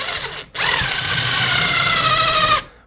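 A power drill with a 3/16-inch bit bores about 3.5 inches deep through drywall into a wall stud. It starts abruptly, holds a loud, steady, close whine for about two seconds, then cuts off.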